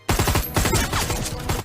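Rapid volley of gunshots in an action film, a quick burst of sharp, closely spaced cracks followed by echoing reports over about a second and a half.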